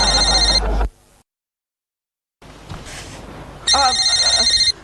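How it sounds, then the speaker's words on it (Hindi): A telephone rings with a bright electronic trill, breaks off into silence and faint background sound, then rings again. "देखना फोन बज रहा है"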